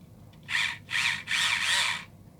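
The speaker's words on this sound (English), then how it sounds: "Now I gotta move up to a bigger drill bit" A small hand drill whirs in three short bursts, drilling a hole in a diecast model car, close and fairly loud, with brief pauses between them.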